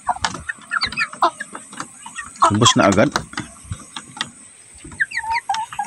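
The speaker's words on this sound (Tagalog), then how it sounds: "manok." Farmyard chickens, a group of five hens, cluck in short repeated bursts at close range, with a louder flurry midway, while a person talks to them over the sounds.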